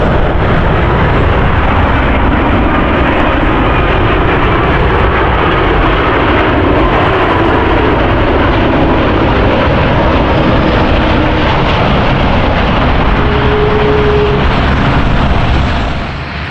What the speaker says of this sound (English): there's 2 planes coming today. Both of them are coming from KL, so fingers crossed they're both on approach